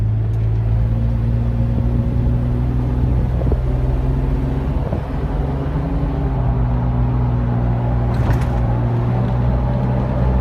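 A fully built Jeep TJ Wrangler rock crawler drives down the road with a steady, droning engine hum and low rumble throughout, plus a brief brighter rattle near the end.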